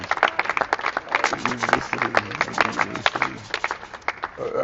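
Congregation clapping hands in rhythm at a church service, a steady run of sharp claps from many people with a low voice or hum underneath.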